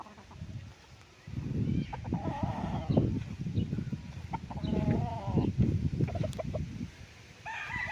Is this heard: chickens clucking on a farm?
yes